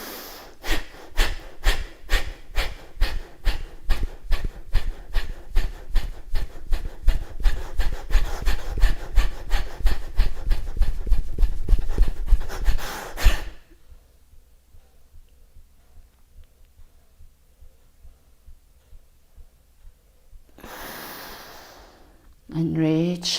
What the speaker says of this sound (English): So let's go. Kapalabhati breath.